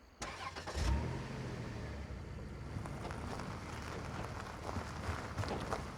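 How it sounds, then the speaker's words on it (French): A car in the video game Call of Duty Black Ops 6 starts up and drives off: a quiet thump and engine catch near the start, then a steady mid-pitched engine hum running on at low volume. "Il prend la voiture."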